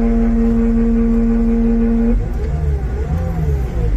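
Engine of a 2016 Caterpillar 289D skid steer revving under foot throttle, a steady loud idle drone that shifts and rises partway through, with no talking.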